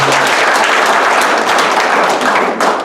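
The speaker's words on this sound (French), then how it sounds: "on applaudit quand même" Guests at a wedding ceremony break into loud, continuous applause, a dense, close clapping that carries steadily throughout before the formal signing.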